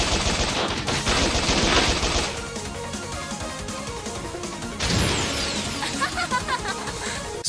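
Rapid video game gunfire from spread and flame guns during a final boss fight in Bot Vice, dense loud bursts of shots and explosive crashes with a brief voice shout among them.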